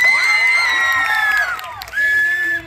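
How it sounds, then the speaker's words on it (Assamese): A crowd of audience members at a comic stage show cheers and shouts loudly and continuously, with whoops rising above the noise and only faint clapping underneath. "হাত চাপৰি এটা বজাই দিয়ক"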